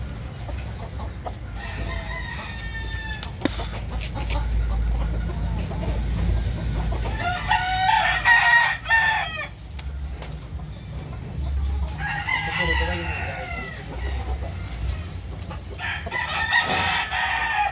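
A large, well-built rooster of fine colour crows loudly several times, long strained calls repeated at intervals, over a steady low farmyard hum with clucking and other birds in the background.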